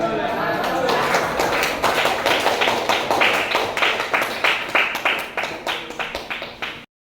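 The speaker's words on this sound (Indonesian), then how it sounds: "Kasih aplaus" Classroom applause after a student group presentation, a dense run of many hands clapping close by, steady and loud for several seconds before tapering off and stopping abruptly.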